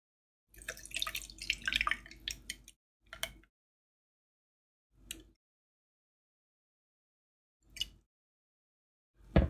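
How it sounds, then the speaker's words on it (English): Kefir is poured through a regular kitchen sieve into a jug, starting with a short wet splashing pour, then a few separate drips falling at widening intervals into near silence. "the idea here is to get this kefir into this jug, and we just sieve it out using just a regular sieve"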